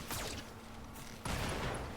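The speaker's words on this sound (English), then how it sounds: "Oh, what an ammo explosion" Video game mech ammo explosion in Battletech: a burst of rapid, dense gunfire-like blasts, fairly faint, with a sharper surge of detonations partway through.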